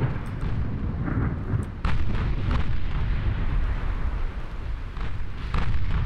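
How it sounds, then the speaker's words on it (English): A flash fire erupts on a battleship in the naval warfare game Ultimate Admiral Dreadnoughts, a continuous rumbling roar of fire and distant booming blasts, with scattered sharp pops throughout. "There's a flash fire on their battleship."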